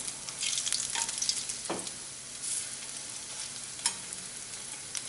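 Lauki koftas frying in oil over low heat as they are turned, a gentle steady bubbling sizzle with a couple of distinct spoon clinks and scrapes, close by.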